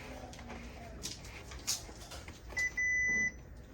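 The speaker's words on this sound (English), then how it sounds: "insert the edge of the paper into the slot until you hear a beep" An Epson F570 printer gives a short electronic beep as paper is fed into the slot, followed by a longer steady tone, clear and close over faint room noise and handling sounds.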